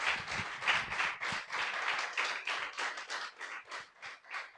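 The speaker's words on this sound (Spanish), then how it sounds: "¿Cuánto dan un fuerte aplauso por eso al Señor?" A church congregation claps together in a fairly close, rhythmic wave of applause, the pulses continuing evenly throughout without a voice over it.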